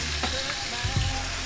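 Pork pata sizzles and fries in its own rendered fat in a pan, a steady crackling hiss with a few louder pops, close and alone without talk.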